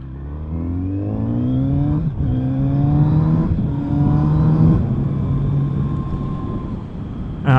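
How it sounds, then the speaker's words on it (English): The smooth, high-revving inline-four engine of a 2021 Kawasaki Z900 RS motorcycle hums steadily as it cruises, pitch climbing and dropping with gear changes, with wind noise underneath. "The inline 4 engine, just crisp, smooth, lovely."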